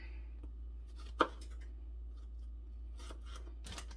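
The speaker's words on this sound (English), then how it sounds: "I'm just giving it a rough little chop." A kitchen knife roughly chops food on a board in a few scattered, quiet taps, one sharper cut standing out amid soft scraping and a low steady background hum.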